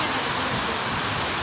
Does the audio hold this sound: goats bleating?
no